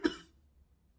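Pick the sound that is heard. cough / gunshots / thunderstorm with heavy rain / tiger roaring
cough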